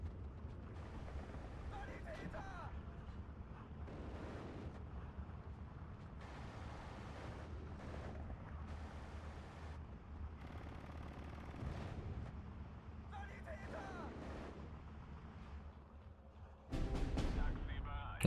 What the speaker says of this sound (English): we have the mortars coming in now